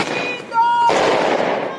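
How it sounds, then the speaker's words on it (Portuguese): Fireworks set off by a group outside the Federal Police headquarters in Lapa, São Paulo, crackling and bursting in a loud outdoor wash after a brief whistling tone. "Um grupo soltou fogos de artifício em frente à PF para comemorar as prisões"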